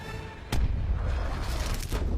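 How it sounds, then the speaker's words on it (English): Heavy cannon fire from Lord Shen's cannons in Kung Fu Panda 2: a sharp booming blast followed by a rumbling roar and a second impact, loud and close. "And really proves how insanely powerful your cannons are."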